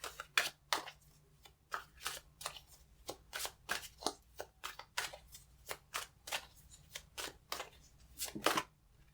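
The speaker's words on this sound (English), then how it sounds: "I'm going to pull out more cards and see what's going on." Tarot cards riffle and snap in a long run of quick, crisp bursts, close and fairly quiet, with short pauses between shuffles and pulls and no talking.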